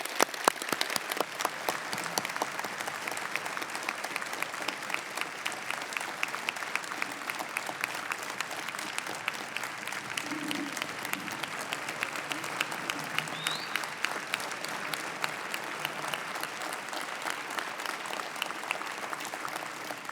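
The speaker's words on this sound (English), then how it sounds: "Let's give them a round of applause." A crowd gives sustained applause to Hall of Fame inductees at a sports ceremony, an even wash of many hands clapping for about twenty seconds, with faint voices in the background.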